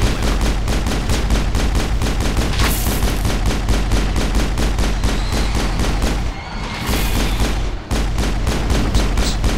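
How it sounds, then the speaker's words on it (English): Rapid, continuous automatic gunfire from a player's weapon in Mass Effect, a sci-fi video game, loud and dense throughout with only two brief dips in the barrage. "Oops, I'm just shooting the backside of that table."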